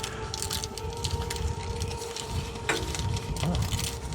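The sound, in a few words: wind blowing outdoors in Oklahoma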